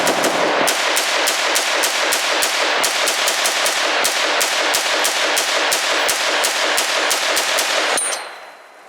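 A Micot G36K pistol fires a long, rapid burst of loud, close gunshots in an even rhythm for about eight seconds, then the firing stops abruptly and a brief metallic ring follows.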